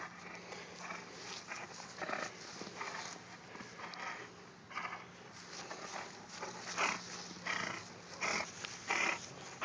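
A dog growls and snarls in bursts while playfully wrestling and tugging at its owner's clothes, with low rumbling interrupted by scuffling and rustling close by.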